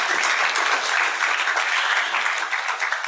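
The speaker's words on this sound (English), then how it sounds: "please give him a very warm round of applause" Sustained applause from a symposium audience, dense steady clapping filling the room for a few seconds without a break.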